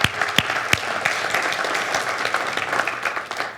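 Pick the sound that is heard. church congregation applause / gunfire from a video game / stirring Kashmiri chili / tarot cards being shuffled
church congregation applause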